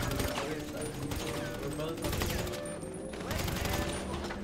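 Rapid gunfire in Grand Theft Auto crackles toward the player in dense overlapping bursts, a sustained volley of sharp shots with metallic pings, moderately loud amid chaotic action noise.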